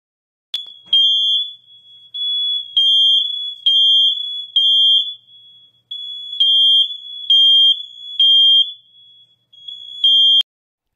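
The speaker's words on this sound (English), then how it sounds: "When the smoke alarm goes off," A smoke alarm shrieks with a loud, piercing electronic tone, pulsing in repeated bursts and short gaps for about ten seconds, with no voices.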